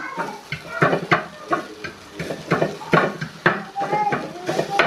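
Green chillies and garlic sizzle and roast in a pan for Khandeshi thecha, with repeated stirring scrapes and sizzling bursts over a continuous fry, close and fairly loud.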